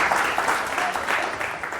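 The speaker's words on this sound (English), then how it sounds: "I would request the studio audience to give them a big round of applause" Studio audience applause at a televised music show, a steady wash of many hands clapping at moderate loudness throughout.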